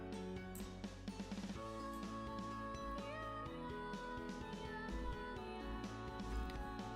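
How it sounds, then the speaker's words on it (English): Meowing cat-piano song from the video game Purrfect Date, a steady musical tune built from pitched cat meows over sustained backing tones, playing loud and continuous throughout with no talking. "It sounds like they used one of those cat pianos to make this song."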